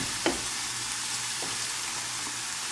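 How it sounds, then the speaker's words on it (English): Onions and peppers sizzle in a pan with a steady, soft hiss, broken by a few brief stirring scrapes, close and moderately quiet. "The onions and the peppers cooking."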